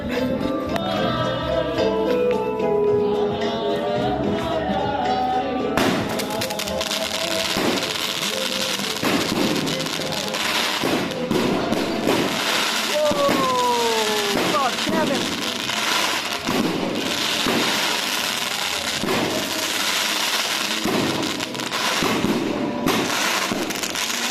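Repeated New Year's Eve fireworks bursts crackle and boom over a steady, dense background in Quezon City, Philippines, with loud explosions recurring throughout and a few whistling rising streaks mid-way.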